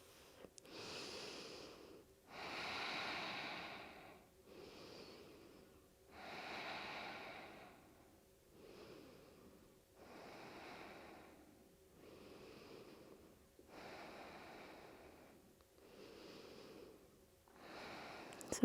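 Slow, deep breathing during a yoga session: about nine long inhale and exhale cycles, each lasting a couple of seconds, soft and close with a faint airy wheeze and no talk.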